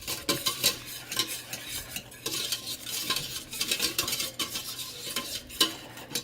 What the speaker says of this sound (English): you're going to take 1 tablespoon of flour and whisk it in. So you're going to make a little roux